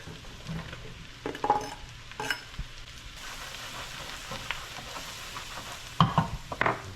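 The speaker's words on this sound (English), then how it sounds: "now we're going to go ahead and add our mushrooms" Onions and mushrooms sizzling in a pan with salt and pepper, a steady close frying hiss broken by several louder stirring scrapes and clatters, especially near the end.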